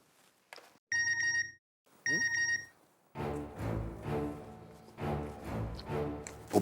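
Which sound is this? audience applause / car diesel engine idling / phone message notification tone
phone message notification tone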